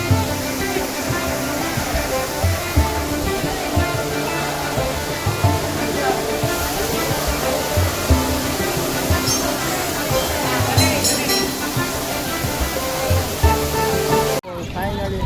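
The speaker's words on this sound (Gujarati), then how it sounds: "પાણી વહી રહ્યું છે તમે જોઈ શકો છો પાણી મસ્ત વહી રહ્યું છે અહીંથી" Water rushes in a steady, loud roar nearby, with voices talking faintly over the flow.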